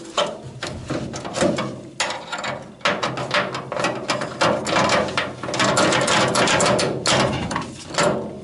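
A fastener on a front seat belt anchor of a Citroën Traction 11B being tightened, a rapid run of close, loud metallic ratchet clicks coming in bursts with brief pauses, steady and mechanical throughout, with no voices.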